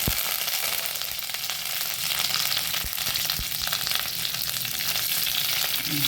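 Fresh curry leaves hiss and crackle in hot oil with urad dal for a spicy Mangalorean podi filling, a loud, steady sizzle with sharp pops scattered throughout and no voices.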